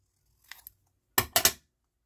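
Scissors cut a straight line through fabric in a sewing project, making a soft snip followed by two sharper, louder close snips, with quiet pauses between.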